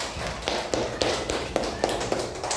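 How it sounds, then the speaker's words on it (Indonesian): A school class claps hands in rhythm during a civics lesson, producing a series of evenly spaced sharp claps at moderate volume, close and fairly clean, with little talk. "Baik, tepuk tangan."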